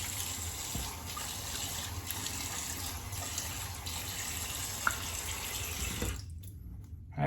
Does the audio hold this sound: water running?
yes